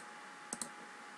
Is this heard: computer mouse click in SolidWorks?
yes